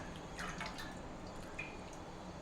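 Cooking oil, a ginger oil, trickles into a batch of mango pickle made with ginger and garlic: a soft, steady liquid pour with faint drippy splashes, fairly quiet and unbroken, with no voices.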